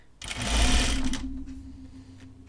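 A sewing machine stitching a rayon seam on a tunic, one short burst of steady motor whir close by for about a second, then a lingering low hum as it winds down.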